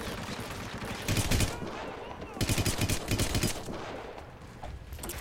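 Gunfire in the stealth video game Hitman: several loud bursts of rapid shots in two clusters, with a quieter background of game ambience between them.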